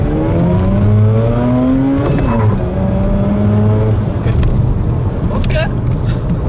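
A Mazda RX-8 engine revs loudly and close, its rising and falling harmonic drone climbing in pitch, easing, then surging again under steady cabin noise, with someone talking over it.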